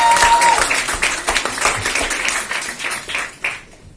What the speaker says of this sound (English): give yourselves a big round of applause for coming